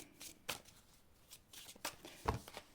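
Playing cards being shuffled in a few quick riffling bursts, fairly close and quiet, with short pauses between.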